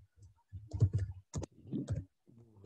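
Soft, faint clicks and keyboard taps on a computer while building a StoryMap, scattered light clatter in short clusters, heard close and quiet.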